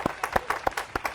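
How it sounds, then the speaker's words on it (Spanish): Sparse, scattered applause from a small studio production crew during a talk show, a handful of separate claps ringing out in a loose rhythm for about a second, close and moderately loud. "Aplausos de la producción"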